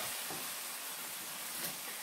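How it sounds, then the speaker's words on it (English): Ackee and saltfish with pepper being gently stirred in a pan, giving a steady soft sizzle and hiss of cooking throughout, with no talk. "you're just stirring, like gently stirring, mixing up the ackee and the sawfish together"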